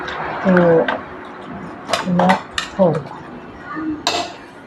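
Pork and breadfruit are stirred in a pot and covered, with a few distinct metallic scrapes and clinks of spoon and lid against the vessel, close by, alongside a speaking voice.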